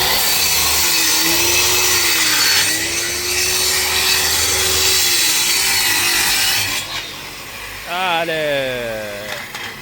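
Loud, steady power sawing cuts through oak veneer panel stock for a four-drawer chest, a continuous droning rasp that shifts pitch slightly, then winds down near the end as a voice speaks over it.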